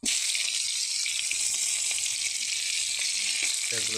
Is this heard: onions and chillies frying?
yes